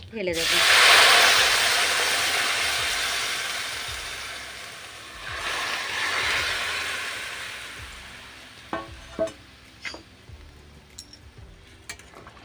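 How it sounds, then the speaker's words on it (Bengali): Fish curry broth, poured over fried panch phoron and ginger, hisses and sizzles loudly in a pan, then settles into a softer bubbling simmer with a few sharp clinks near the end. "দেখো বন্ধুরা, ঝোলটা আমার ফুটেই এসেছে।"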